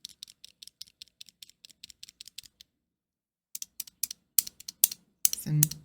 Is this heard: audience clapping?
no